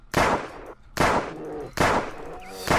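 Gunfire from a gun in Minecraft during a nuclear-winter survival game: three loud, sharp shots spaced about a second apart, each with a short ringing tail, the last cut off at the end.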